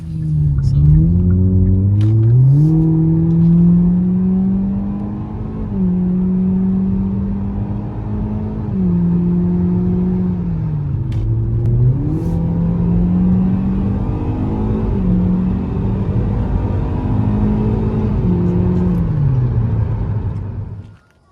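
A 2021 Hyundai Elantra SEL fitted with Vibrant Ultraquiet resonators revs repeatedly, a loud, close exhaust drone rising and falling through several throttle sweeps before cutting off at the end.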